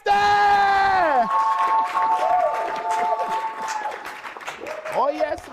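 A studio audience cheers and applauds as Tamar Braxton is introduced. A loud voice opens the moment, then a crowd roars with claps, whoops and shouts, and a voice returns near the end.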